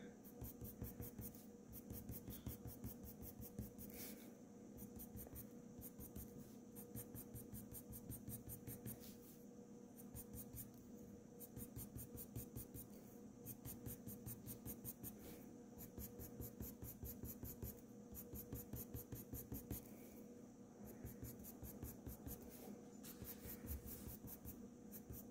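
A Derwent Coloursoft purple coloured pencil shades paper, overlapping an earlier blackberry tone, in quick, steady back-and-forth strokes that scratch softly and closely, with brief pauses between bursts and no voices.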